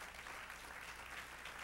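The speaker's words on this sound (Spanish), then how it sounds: "dale aplauso al Señor" Steady applause from a church congregation during a Spanish-language worship service, a continuous even wash of clapping held at the same level throughout with no voices standing out.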